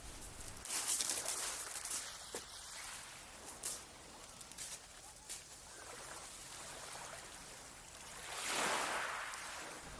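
Calm, nearly flat sea washing gently onto the beach at Hythe, Kent, with a steady soft surf hiss that swells into a fuller wash near the end and faint bird calls in the background.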